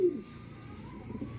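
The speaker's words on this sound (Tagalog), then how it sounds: "Yan yung ibon niya." A pigeon or similar bird gives a soft cooing call, fairly close and moderately quiet, with faint background noise around it and no talking.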